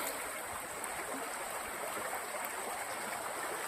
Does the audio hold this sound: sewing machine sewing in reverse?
no